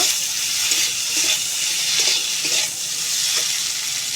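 Pumpkin-leaf roll filling fries in a pan with a continuous bright sizzle, broken by soft scraping strokes of a spatula as it is stirred, close and steady.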